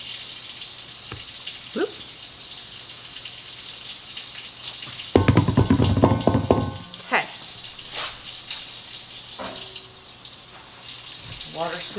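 A kitchen faucet runs water into a sink while cooking, a steady hiss that swells louder for a couple of seconds midway, with clinks and brief short speech around it.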